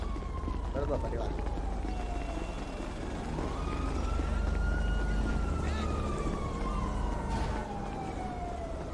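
A police car siren in the video game Chicken Gun wails with a slow rising and falling tone over a steady engine rumble, heard continuously at moderate volume.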